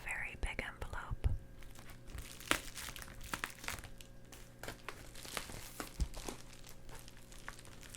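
A large paper envelope is handled close by, with soft crinkles, rustles and scrapes popping up irregularly, while a quiet voice whispers in between.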